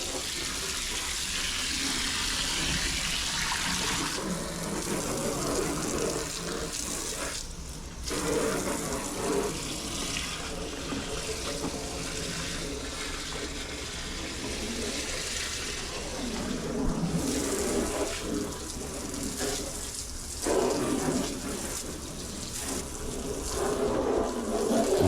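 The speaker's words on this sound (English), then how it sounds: "All I need is a water spray gun to blast away the dirt, which saves a ton of effort." Water spray gun blasting dirt out of an outdoor turtle tank, a steady loud rushing hiss of spraying water that continues throughout with small shifts in intensity.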